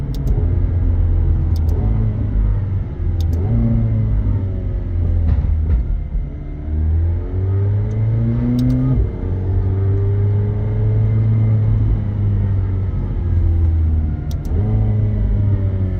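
A 2018 McLaren 720S engine drones steadily while driving on a test drive, rising and falling in pitch through gear changes, with a low rumble throughout and no talking.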